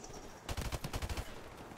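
An M16A4 rifle fires in Call of Duty: Modern Warfare Remastered, a sudden loud run of rapid shots that lasts under a second and then drops away.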